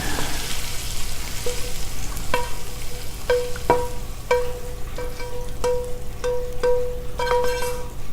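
Pasta and flavored oil sizzling and crackling steadily in a pan fill the clip, with occasional clinks of a utensil against metal.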